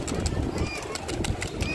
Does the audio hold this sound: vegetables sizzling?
no